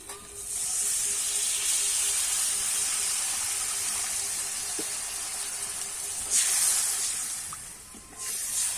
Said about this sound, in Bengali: এবারে কিন্তু আমি পরিমাণ মতো জল দিয়ে দেবো